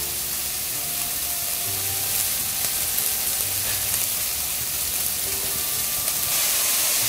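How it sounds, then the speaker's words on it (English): Chopped tomatoes with mint and coriander sauté in a pan, giving a loud, steady hiss of sizzling steam that holds unbroken throughout, with no voices. "Add the tomatoes and saute for a while."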